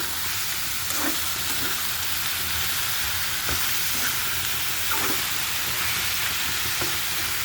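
Bottle gourd with turmeric sizzles loudly and steadily in a frying pan while a utensil stirs it, adding faint periodic scrapes and taps beneath the hiss, with no speech.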